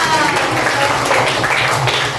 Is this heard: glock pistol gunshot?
no